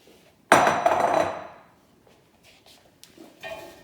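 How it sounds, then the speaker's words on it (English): Prunes tip into a cooking pot for chutney with one sudden loud clattering tumble that decays over about a second, followed by faint knocks and a second softer rattle near the end. "we're ready to start adding all the ingredients into the pot"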